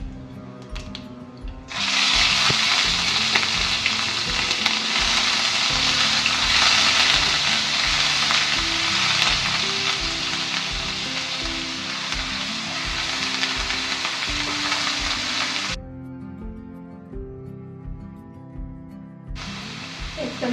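A loud, steady sizzle of chopped onions hitting hot oil with mustard, cumin and fennel seeds starts abruptly, holds for several seconds, then cuts off sharply, with a faint low rhythmic thumping underneath.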